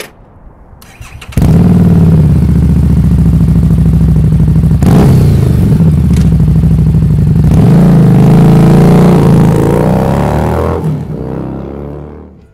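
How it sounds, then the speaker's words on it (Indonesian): A Harley-Davidson Street 500 V-twin motorcycle engine cranks and starts, then settles into a loud, throbbing twin-cylinder idle with a few revs before cutting off, recorded up close. "suara yang dihasilkan mesin Street 500 pun juga sangat berbeda dengan suara khas V-twin Harley"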